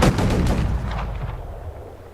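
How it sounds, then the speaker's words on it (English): Ship cannon fire booms in Assassin's Creed 4, a loud close blast with a rolling rumble that slowly fades over two seconds, with no talking. "Her cannon! Get out of range!"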